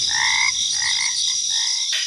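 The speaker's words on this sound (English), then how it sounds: "hooting owls, croaking frogs, and buzzing bugs" Frogs croaking at night in the countryside, a close chorus of repeated trilling croaks in overlapping bursts over a steady high insect-like buzz.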